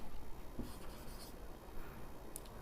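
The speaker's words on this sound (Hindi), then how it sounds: "मैं लिख देता हूं" Chalk or marker scratches across a classroom board in soft, steady strokes, faint and close against a low background hum.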